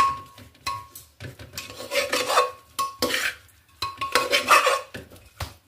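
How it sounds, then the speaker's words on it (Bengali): A spoon scrapes and rasps against a pot as quinoa khichuri with egg is stirred, in irregular bursts of gritty scraping separated by brief pauses, close and clear with no voices. "এইবার একটু আগে সবটা মিক্সড করে নেব খুব ভালো করে।"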